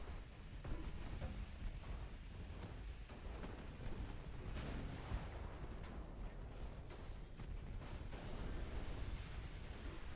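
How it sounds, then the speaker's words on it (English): Naval gunfire and a torpedo explosion in the Ultimate Admiral Dreadnoughts warship game, a dense, continuous rumble of booming shots and blasts that stays loud and steady throughout. "Got a torpedo explosion on the light cruiser"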